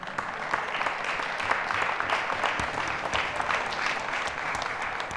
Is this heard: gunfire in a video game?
no